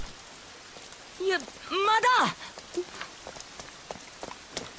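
Steady rain falls with a constant soft hiss and scattered droplet ticks while someone runs through it, and a brief strained voice cry rises above it midway.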